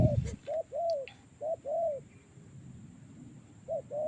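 A wild bird calls near a bird lure outdoors, giving about six soft, rounded cooing notes in an uneven rhythm at moderate distance. A thin, steady high hum runs underneath, with no talking.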